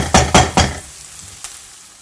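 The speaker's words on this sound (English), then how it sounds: "Let them all brown up together, maybe 1 minute or so." Ingredients for a tomato egg curry brown in a hot pan as a spoon stirs them, giving three quick scraping strokes over a soft sizzle, then a single faint tap, close up.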